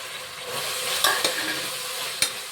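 Chopped mint and coriander leaves fry in a pan while making vegetable pulao, giving a steady close sizzle broken by a few sharp taps of a spoon against the pan.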